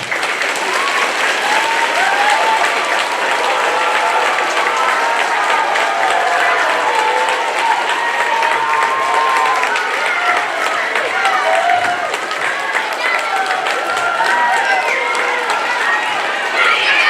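Sustained applause from a school audience at a Black History program, dense steady clapping filling the room with cheers and chatter mixed in, holding loud throughout.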